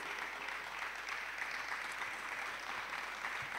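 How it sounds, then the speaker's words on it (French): A church congregation claps together in a steady, dense wash of applause that holds evenly throughout, somewhat distant and moderately quiet. "Let us clap for those ones."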